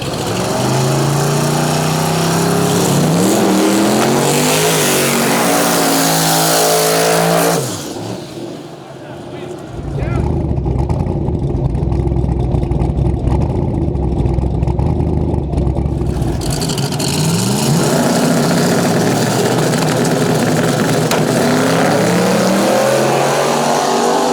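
Drag race cars run at a Canadian event. Loud, close engine roar fills the scene, dips briefly partway through, then surges again at full volume and keeps droning steadily to the end.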